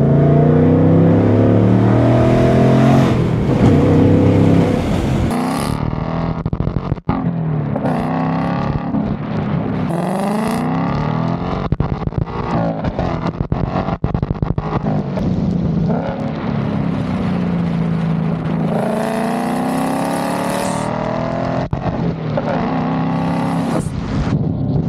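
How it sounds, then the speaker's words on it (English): A 500 hp 2024 Ford Mustang GT V8 roars through repeated rev-matched throttle blips and accelerations, loud and close with rising and falling engine pitch and some wind noise. "That rev match, dude, is like something else."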